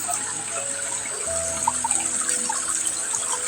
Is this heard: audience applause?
no